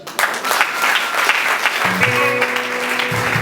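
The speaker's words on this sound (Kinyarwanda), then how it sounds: "Komereza amashyi." A church congregation claps in a dense, lively burst. Partway through, sustained musical tones rise beneath the clapping and carry on to the end.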